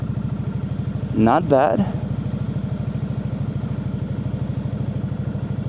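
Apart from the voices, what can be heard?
KOVE 625V Lancer motorcycle riding very slowly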